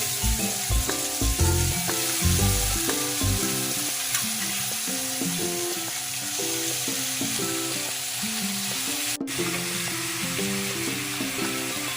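New potatoes frying with a heap of chopped onions in a pan, a loud steady sizzle close by with stirring clatter and scraping throughout.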